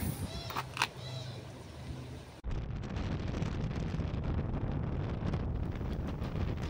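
Wind in France buffets the microphone in a loud, constant roar, after a short quieter stretch that ends in a sudden jump in level.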